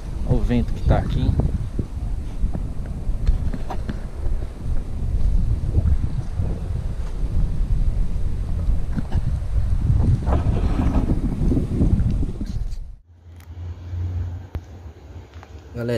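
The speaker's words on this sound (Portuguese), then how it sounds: "Vento que tá aqui." Strong wind buffets the microphone at a cemetery in Santo André, a loud, continuous rushing roar for most of the stretch that drops off abruptly near the end, followed by a quieter low rumble.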